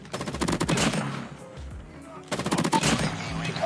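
Rapid automatic gunfire in the video game Call of Duty: Mobile, loud bursts of shots that break off briefly and then resume, with game voice callouts mixed in.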